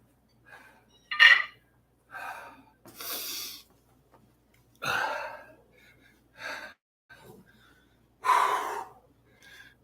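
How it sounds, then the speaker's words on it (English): Heavy gasping breaths and sighs from a man right after a heavy bench press set in a gym, coming in about eight close, loud bursts separated by short pauses, with no talking. "You can see I'm breathing heavier on that set than I did on the 390."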